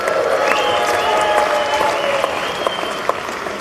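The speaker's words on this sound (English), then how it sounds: "Let's give them a big round of applause." Steady applause from an audience at a winter event talk, broad and sustained, with a few sharper claps standing out near the end.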